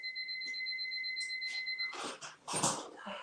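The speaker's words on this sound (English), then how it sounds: "Oh, my little timer." A small timer beeps in steady tones through the first half, then cuts off, followed by scattered clatter and handling noise in a shop.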